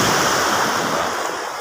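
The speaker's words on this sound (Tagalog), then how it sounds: "Yan, malakas ang yung alon dito," Strong ocean waves at a surf beach roar in a loud, continuous wash of surf. Wind blows across the microphone, and no one talks.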